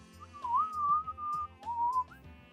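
A person whistles a plain mouth whistle, not a finger whistle, holding a clear sustained tone that glides up and down in two phrases, close and alone under faint background.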